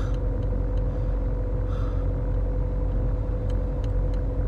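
A car driving slowly along a snowy road in the early morning, following a vehicle's tracks at about 13 km/h, with a steady, close engine hum and low road rumble heard from inside and a few faint clicks.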